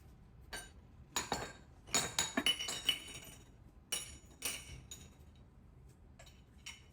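Dirty dishes and utensils being put away in a home kitchen after mixing batter, heard as bursts of close glassy clinks and metallic clatter of cutlery, several quick clusters with quiet gaps between.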